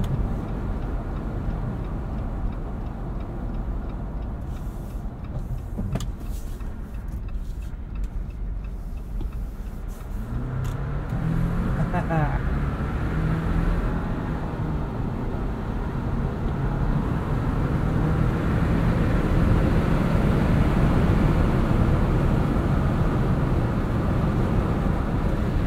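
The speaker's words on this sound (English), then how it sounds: "Let's get on the highway here, see how it handles some high-speed driving." A 2021 Jeep Wrangler Rubicon 4xe plug-in hybrid cruises at highway speed in hybrid mode, heard from inside as a steady low road and wind rumble that swells as speed builds, with a few light clicks and no talk.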